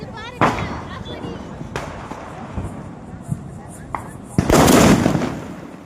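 Sharp Diwali firecracker bangs pop out of an outdoor scene with voices, a few scattered cracks followed by a loud, sustained crackling burst near the end.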